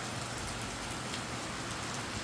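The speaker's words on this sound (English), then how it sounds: "Look on how the sun has shine bright out the door and rain falling." Rain falls steadily outside an open window on a sunny day, a constant soft hiss with no breaks and no voices.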